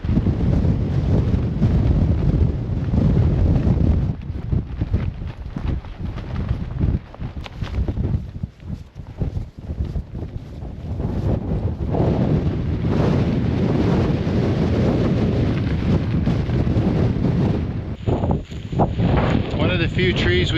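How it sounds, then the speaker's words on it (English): Strong, gusty wind batters the microphone on the Laugavegur hiking trail in Iceland, a loud roaring rumble that dips briefly mid-way before surging again, with a voice faintly mixed in. "But check this wind out."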